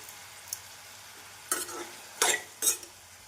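Onions sauté in a pan for chicken chukka, a soft background sizzle broken by three brief stirring scrapes against the pan, heard close.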